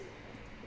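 Domestic pigeons cooing softly in a rooftop loft, a steady low murmur of overlapping coos with a faint bird call, heard from close by without talk.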